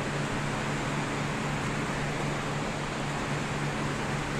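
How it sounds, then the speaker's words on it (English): Dense, steady hiss of rain pouring down without a break, loud and close, with no voices. "Yes, guys, it's raining so much."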